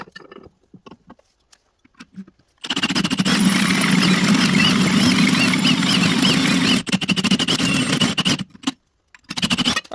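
A hole saw cuts through metal plate during fabrication work, a loud steady grinding drone that starts abruptly after a few seconds of quiet, runs for about four seconds, then continues in shorter bursts with brief pauses.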